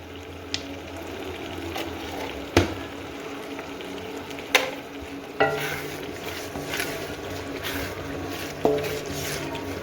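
Red chili and turmeric fry in a pan for chicken biryani, giving a steady close sizzle broken by several sharp clanks of a utensil against the pan.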